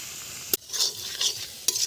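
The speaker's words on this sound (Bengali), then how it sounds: "আর একটু ভাজা ভাজা হইলে হয়ে যাবে" Mushroom vegetable curry sizzling in oil in a pan as a spatula stirs it, with two sharp scrapes against the pan over a steady, close frying hiss.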